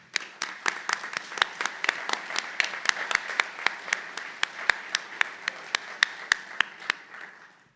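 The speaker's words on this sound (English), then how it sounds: "Please join me in applauding and thanking these exceptional individuals for their remarkable contributions." Audience at a county board of supervisors meeting applauds honorees, with distinct sharp claps in a steady, moderately sized patter lasting several seconds before fading out.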